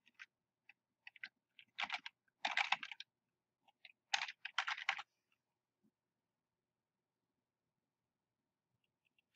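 Short bursts of typing on a computer keyboard while entering text in an image editor, quiet and close, with clusters of clicks separated by pauses and silence toward the end.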